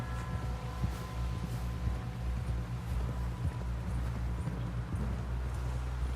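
Horse hooves clip-clop in a steady rhythm over a low rumbling background in the video game Red Dead Redemption 2, moderately loud and continuous with no voices over them.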